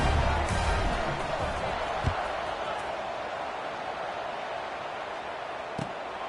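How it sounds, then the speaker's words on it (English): Football stadium crowd at a Jax State versus LaTech game, a steady broad roar buzzing after a touchdown, with a couple of faint thumps and no clear speech over it. "this crowd is buzzing after that last score"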